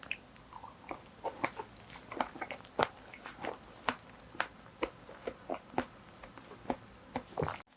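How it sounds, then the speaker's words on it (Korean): Mugwort rice cake eaten with strawberry, crisp close bites and soft chewing in a steady, irregular rhythm of sharp clicks and squishes, with no talking. "딸기 곁들여서 먹어볼게요."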